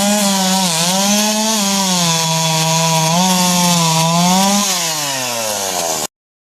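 A Stihl MS170 chainsaw runs steadily close up, a loud buzzing engine drone that rises and dips slightly in pitch as it revs, then cuts off abruptly.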